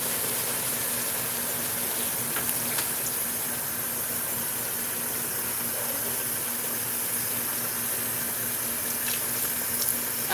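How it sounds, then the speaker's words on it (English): Water pours steadily into a pot of spicy coconut curry chicken, a continuous close hiss of running liquid lasting the whole stretch with faint clinks. "It needs more water, baby. Put the water, darling."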